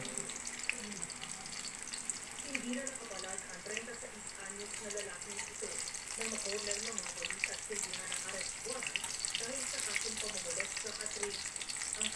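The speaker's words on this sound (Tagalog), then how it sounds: "Pritong talong." Eggplant fries in a pan with a steady, close sizzle and crackle, joined by scattered clinks and stirring sounds while a voice occasionally speaks quietly over it.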